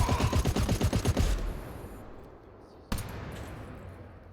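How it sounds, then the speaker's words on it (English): A big machine gun in the video game GTFO fires a rapid, loud burst of about a dozen rounds, then the echo tails away before a single sharp shot rings out. "I like this big machine gun"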